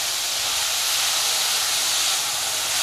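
Onion sautéing in a pan, a steady bright sizzle and hiss held evenly throughout, close and without talk.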